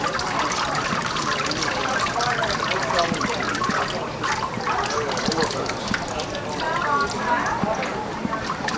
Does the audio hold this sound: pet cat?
no